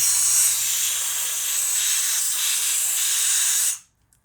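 A loud, steady hiss of compressed air blasting through a plastic Briggs and Stratton carburetor for several seconds, then cutting off abruptly into silence.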